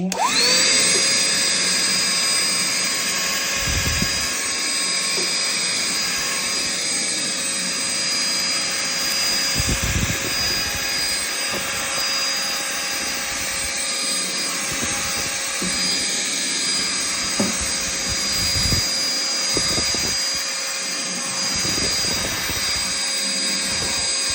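A vacuum cleaner runs continuously with a loud, steady high whine and hum, its pitch shifting slightly as it works, with occasional bumps and thuds.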